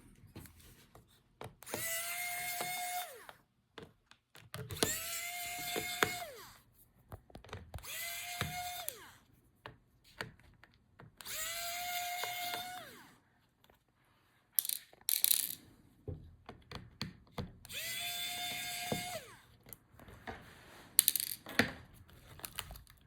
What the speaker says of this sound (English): So disconnect all the remaining connectors and take out all the screws.